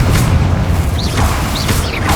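Confringo fire spell blasts in Hogwarts Legacy: a loud, booming rumble sustained throughout, with brief whooshing bursts layered on top, heard alone without talk.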